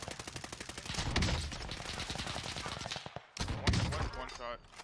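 Gunfire from a ZRG sniper rifle in Warzone Caldera, a few sharp shots amid other game sounds and faint voices.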